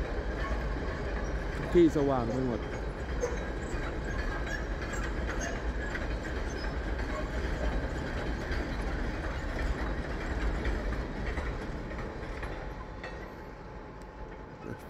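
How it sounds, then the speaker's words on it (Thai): A train rumbles past with a steady low roar and rattle, a brief squeal near the start, while a person talks over it, on a day of heavy snowfall in Denmark. "นี่มีรถไฟมา"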